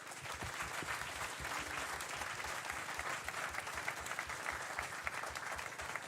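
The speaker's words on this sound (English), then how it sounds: "Let's give them another round of applause." An audience at the 2022 Easneye carol concert applauds a brass band and choir, with dense, sustained clapping that stays even and full throughout.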